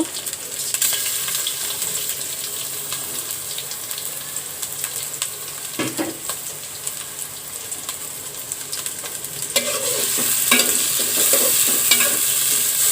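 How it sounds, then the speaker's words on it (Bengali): Shrimp fry in mustard oil for a shrimp and taro dish, a steady close sizzle broken by spoon scrapes and stirring clatter, growing louder and hissier toward the end, with no speech. "আমি চিংড়ি মাছগুলো একটু তেলে ভেজে নেব"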